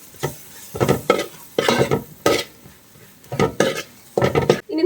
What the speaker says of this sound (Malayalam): നമുക്ക് നന്നായിട്ടൊന്ന് മിക്സ് ചെയ്ത് കൊടുക്കാം